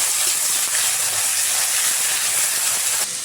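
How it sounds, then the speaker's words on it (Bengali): Cashews with chopped tomato, cumin, turmeric and salt fry in a hot pan, giving a steady, loud broadband sizzle and hiss that holds evenly for about three seconds before easing slightly at the end. "একটু অল্প হলুদ করে দিয়ে দিলাম অল্প নুন, একটু ভালো করে ভেজে"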